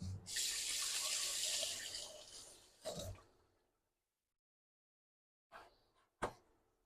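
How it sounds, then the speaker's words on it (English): Tap water runs steadily over hands at a sink for about three seconds, then stops; after a silent pause a couple of brief splashes and drips follow. "I'm gonna give my hands a quick wash"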